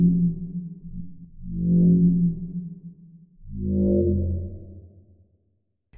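Two slow, swelling Serum synthesizer pad notes, dark dubstep style, rise and fade, each tail lingering in a soft reverberant wash before trailing into silence.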